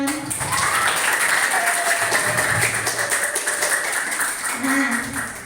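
A classroom of students claps together for several seconds, with brief voices and chatter mixed in under the clapping.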